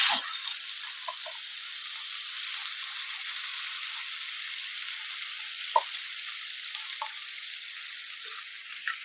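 Masala with two or three bay leaves sizzling in hot oil, a steady close hiss running throughout with a few faint clicks of a spoon.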